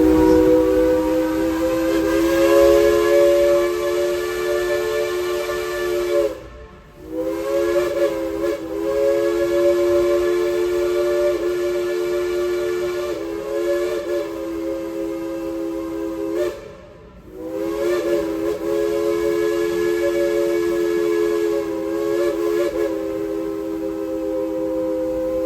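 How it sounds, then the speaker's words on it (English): The steam locomotive whistle on the Dollywood train blows loud and long in three sustained chordal blasts, each broken by a brief gap. "tell Engineer Steven to blow that whistle of his real loud and long"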